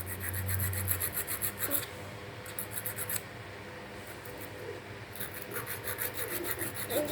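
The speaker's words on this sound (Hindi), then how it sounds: "ग्लू गन मेरी गर्म हो गई है, बस उसको मैं घिस रहा हूँ गाइस, जैसे के लिए फिट आ जाए वापस से" A part is rubbed and filed down with a heated hot glue gun so it fits a homemade water pump, making rough rasping strokes in two bursts with a quieter stretch between. No one speaks.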